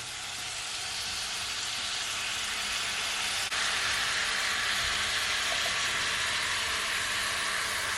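Apples dropped into melted butter in a frying pan give a loud, steady sizzle that holds throughout and swells slightly partway through, with no talking.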